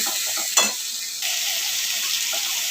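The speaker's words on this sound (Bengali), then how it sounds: "মশলাটা ভালো করে আমি কষিয়ে নেব" Spice paste for a fish curry being fried and stirred in a pan, a continuous hissing sizzle with a brief scrape of the spoon, close and steady.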